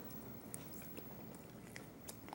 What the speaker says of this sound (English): let me taste this brisket to see if it's any good